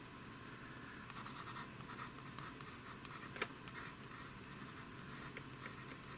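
A pencil moves across art paper in steady, scratchy strokes, close and quiet, with a few sharper scrapes along the way.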